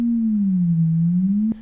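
A synthesizer sine wave holds a steady low tone while a slow LFO bends its pitch gently down and back up, then cuts off abruptly near the end.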